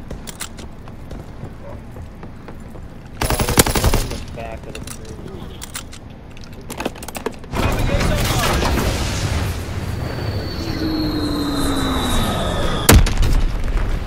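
Bombs and gunfire erupt in a PS4 shooter video game, with a sudden loud blast burst midway and another heavy impact later amid continuous battle noise, while game voice callouts play over the action.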